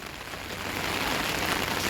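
Rain falling outside a cave at a forest temple, a steady dense hiss of drops on surfaces that swells slightly, with no voices.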